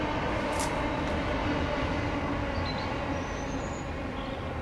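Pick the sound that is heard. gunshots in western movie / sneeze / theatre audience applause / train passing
train passing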